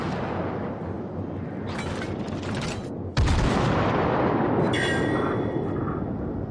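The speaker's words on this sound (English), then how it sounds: "And I turn back, fire a couple of salvos." Warship main guns fire salvos in World of Warships, a heavy boom landing at about three seconds over steady battle rumble, with dense game noise throughout.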